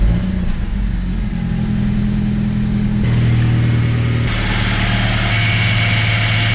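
BMW E46 Touring with the N46 engine idling, a steady mid-pitched hum with faint vibration, loud and close, no voices.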